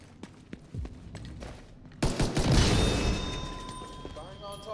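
Gunfire in Tom Clancy's The Division 2: a few faint pops early on, then a loud burst of shots rings out after two seconds and decays into a ringing, echoing tail over a low background.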